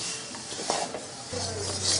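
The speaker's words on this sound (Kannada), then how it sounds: "ಈಗ ನೋಡಿ ಬೆಲ್ಲ ಕರಗಿ ತುಪ್ಪ ಕುದಿಯೋಕೆ ಶುರುವಾಗಿದೆ" Ghee and melted jaggery bubbling in a pan for tambittu while being stirred, giving a dense close hiss with soft scraping strokes and a low steady hum underneath, no voices.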